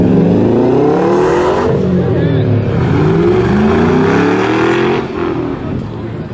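A modified car's aftermarket exhaust revs loud and close, its engine note climbing and falling in repeated sweeps with a brief drop near the end.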